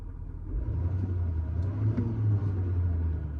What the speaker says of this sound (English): when I rev the truck up